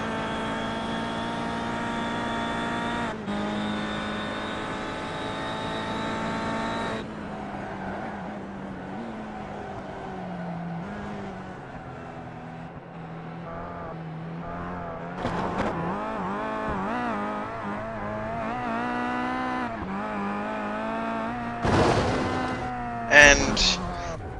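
A Kia race car laps the Phoenix road course in iRacing, its engine droning steadily with shifting pitch through gear changes and corners, while a commentator talks over it throughout.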